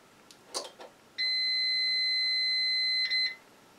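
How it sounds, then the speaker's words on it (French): An electronic device sounds a single sustained, loud beep of about two seconds when switched on, followed by a brief second chirp, close and clear with no talk. "On appuie, ça va faire bip et après il va se mettre en marche."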